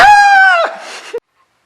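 A person imitates a rooster-like bird call: one loud, strained high cry of about two-thirds of a second that cracks and trails into breathy noise, then a brief grunt.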